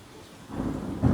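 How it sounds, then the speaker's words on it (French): Thunder rolls in during a storm with lightning, a low rumble swelling from quiet to a heavier boom near the end over a background hiss of rain. "ça va péter parce qu'il y a eu un éclair"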